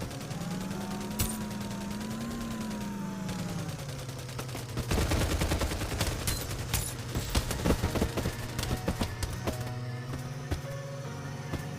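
Gunfire from the Farlight 84 battle royale game rings out in rapid bursts over a steady engine-like drone, with dense volleys in the middle and scattered shots later.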